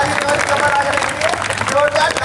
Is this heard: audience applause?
yes